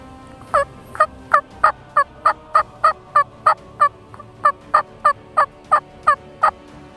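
Wild turkeys gobble on a spring hunt in Alabama, a steady run of about sixteen sharp, evenly spaced calls at moderate distance with no talk over them.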